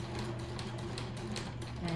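A sewing machine back stitches along the bottom edge of a fabric face mask with elastic, a steady close whirring hum with a faint rhythmic ticking of the needle, running continuously and alone.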